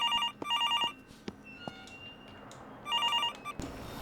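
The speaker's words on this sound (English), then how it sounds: "phone is ringing, why?" An in-game telephone in the horror game Infliction rings in two clear bursts of repeated electronic trills, then quieter thuds and ambience fill the gap.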